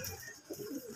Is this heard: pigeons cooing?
yes